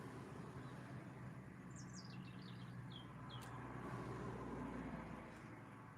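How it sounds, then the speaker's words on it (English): A robin sings a short run of thin, high chirping notes at a distance, faint over a steady hum of traffic. "It's a robin."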